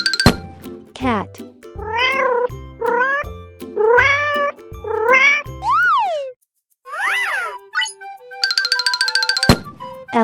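Repeated meows from a cat, rising and falling in pitch, set against a bouncy musical backing with chimes and cartoonish effects.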